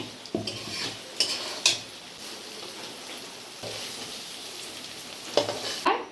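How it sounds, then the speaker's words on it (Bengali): Paneer fries in oil in a kadai, a steady close sizzle broken by several sharp clinks and scrapes of a utensil stirring against the pan, with no one speaking. "আমার পনিরটা ভাজা হয়ে গেছে। বেশি ভাজবো না, বেশি ভাজলে শক্ত হয়ে যায়"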